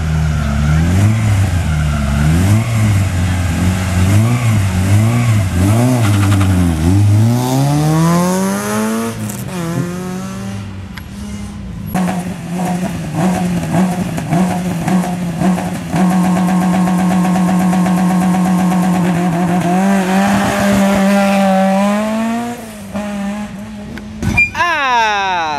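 A rally car engine revs loudly up and down close by, its pitch climbing and falling in repeated sweeps, then holding at a steady roar before a final rise.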